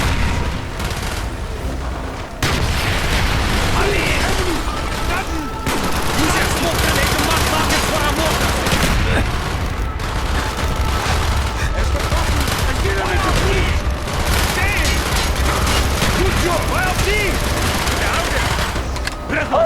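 Sustained loud gunfire and mortar blasts from Call of Duty: Black Ops fill the whole stretch, dense bursts and booms with shouted voices mixed underneath.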